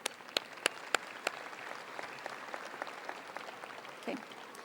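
A few sharp, separate claps ring out first at a high school graduation ceremony, then faint scattered applause continues quietly in a large hall.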